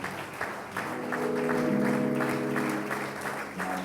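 A church congregation claps together, a dense ripple of applause with a sustained tone and murmuring voices beneath it.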